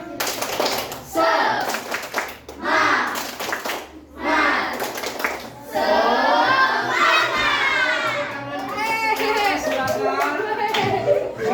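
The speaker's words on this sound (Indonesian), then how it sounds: "kita tepuk semangat dulu" Schoolchildren in a classroom perform a rhythmic spirit clap cheer, sharp bursts of group clapping followed by loud, excited chanting and shouting voices that carry through to the end.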